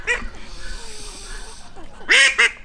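Ducks in a muddy pen beside a chicken coop give a few loud, harsh quacks close by near the end, after a stretch of quieter low calls.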